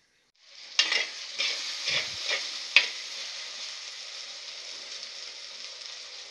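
Onions and tomatoes sizzle steadily in hot oil while a utensil stirs and scrapes the pan a few times, close and clear.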